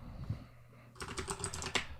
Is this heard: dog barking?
no